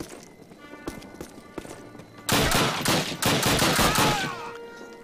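In the Call of Duty Warsaw tank factory level, a few sharp rifle shots sound at first, then a loud sustained barrage of gunfire and battle noise takes over, with no speech.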